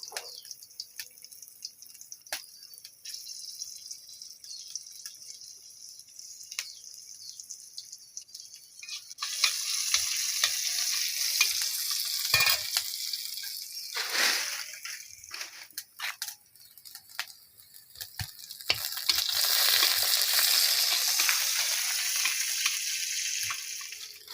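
Chopped onion and a little garlic sizzling in hot oil in a pan, a steady hiss that swells loudly twice amid clinks and scraping from stirring, with a quieter lead-in of small drips and knocks.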